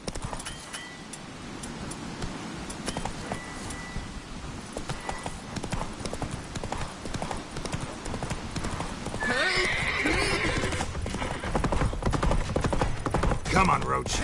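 Roach the horse in The Witcher video game gallops with steady close clip-clop hoofbeats and lets out neighs, loud over game music and effects, with voices talking around it.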